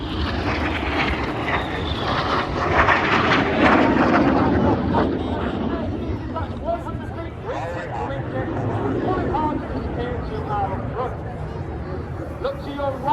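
A pair of Grob Tutor propeller trainers fly a display at the RAF Cosford air show, their engine drone rising and fading overhead beneath a running commentary and crowd chatter.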